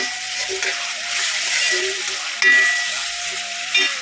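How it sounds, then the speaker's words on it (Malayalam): Onions sauté in a hot pan, giving a steady, close sizzle broken by soft scraping stirs of a utensil against the pan. "ഇനി നമ്മളുടെ ഉള്ളി നല്ല രീതിക്ക് വഴറ്റി എടുക്കാം"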